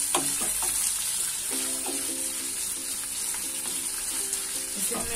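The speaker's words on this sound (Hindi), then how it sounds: "अच्छे से मिक्स करके फ्राई करेंगे" Onions and mutton kidney fry in a hot pan while being mixed, a steady loud sizzle broken by scraping stirring strokes and a few clinks of the utensil, with no talking.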